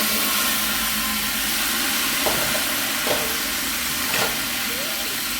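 Tamarind water poured into a hot frying pan already holding coriander and chillies gives a steady, close sizzling hiss throughout, with a few soft clinks scattered over it.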